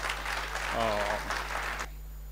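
A crowd at a Jain religious festival gathering claps steadily, dense overlapping applause that carries on loudly before cutting off abruptly near the end.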